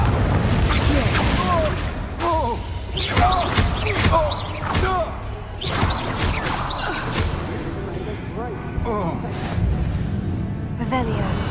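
Repeated Confringo fire spell blasts in Hogwarts Legacy during a fight with Ashwinders, several sharp bursts across the span mixed with battle shouts and voiced spell calls.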